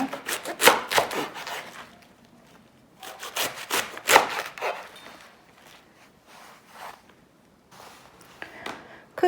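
Leaves of catalogna, an Italian winter chicory, are cut into bite-sized pieces on a board, with close, rough crunching and scraping strokes in uneven bursts and softer pauses between them, with no talking.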